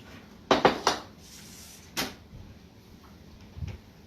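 A metal pan is handled in a home kitchen while chicken with pasta is being cooked: a quick cluster of three clanks, a single knock shortly after, then a soft bump, all close with no talking.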